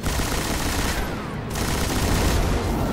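Dense automatic gunfire rattles nonstop in the video game Destiny, loud rapid fire that runs without pause.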